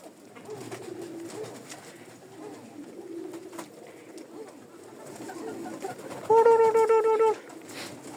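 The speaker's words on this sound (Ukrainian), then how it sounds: "Ну, голуби вечеряють." Pigeons in an aviary coo at evening feeding time: one loud, close coo lasting about a second stands out near the end over a faint, steady background murmur.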